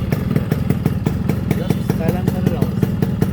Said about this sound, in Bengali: হ্যাঁ শুধু সাইলেন্সারের আওয়াজ